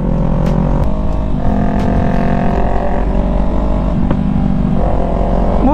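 A Yamaha MT-03 motorcycle climbs uphill, its engine droning loud and close with shifting pitch and slight revving, steady throughout with no voices.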